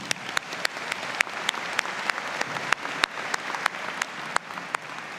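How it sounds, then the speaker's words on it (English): At a Mount Royal University spring convocation, an audience gives steady, moderately loud applause with crisp individual claps standing out from the crowd, continuing evenly without talk. "Let's give them an applause."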